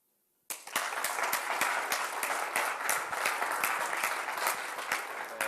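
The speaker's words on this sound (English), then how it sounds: "So, clap vote for this side" An audience bursts into loud, sustained applause as a clap vote at a live speed-debate event, with dense clapping filling the room after a brief silence.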